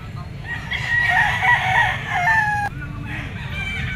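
A white Kelso gamecock rooster crows once at a bustling pet market, a drawn-out call of moderate loudness that rises over a steady wash of crowd murmur and background noise.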